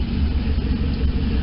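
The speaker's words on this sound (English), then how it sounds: "I might mess with the idle a little bit. Does sound pretty good though." A car engine idling steadily after tuning adjustments, a close, even low rumble with a slight pulsing throb and no breaks.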